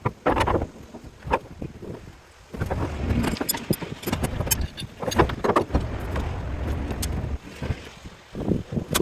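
Wind gusting outdoors on a house roof, loud buffeting bursts that hit the microphone hard, rising and falling in waves with short lulls between.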